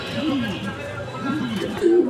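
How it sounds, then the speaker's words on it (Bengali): Fancy pigeons at a pigeon market in Bangladesh coo in soft, repeated rolling calls at close range, with people talking over the cooing. "দেখেন কবুতর দেখেন"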